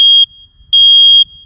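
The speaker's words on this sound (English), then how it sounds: "Your smoke detector, for example, will give you 3 quick" A household smoke detector sounds its alarm pattern: loud, piercing high-pitched beeps in quick succession, close and clear with no talking.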